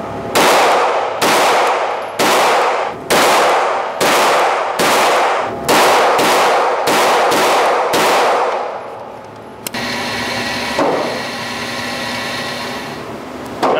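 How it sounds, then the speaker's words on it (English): AR pistol fired in rapid succession at an outdoor range, about ten sharp, loud, evenly spaced shots, followed by a lingering, ringing decay. "let's start off by giving this pistol a try and see how this performs downrange"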